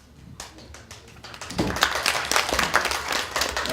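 Audience applause at a journalism lecture, starting as a few scattered claps and swelling after a second and a half into dense, steady clapping from a roomful of people.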